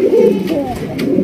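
An Arabian cock pigeon cooing up close, a loud, low rolling coo that swells and dips in one continuous call.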